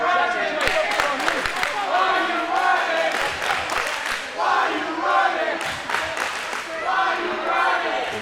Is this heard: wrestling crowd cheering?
yes